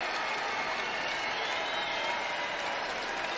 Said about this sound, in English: I believe that's why that standing ovation